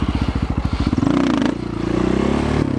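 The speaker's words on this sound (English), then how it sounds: "a big bore supermoto like this" Big bore supermoto motorcycle engine, close and loud: a rapid chugging idle of distinct pulses rises into a smooth revving drone that dips briefly and then climbs again.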